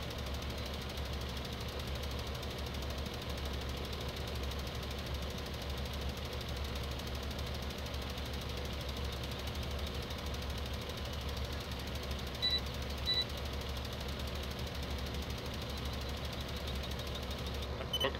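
A tractor engine idles steadily in a farming video game, a low continuous rumble with faint knocking texture holding at an even level from start to finish, with no talk over it.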